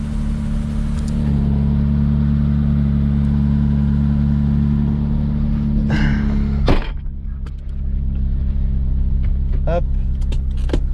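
A car engine idles after a cold start, a loud steady low rumble running through the whole stretch, with a couple of brief thunks and clicks near the middle and soft voices talking over it.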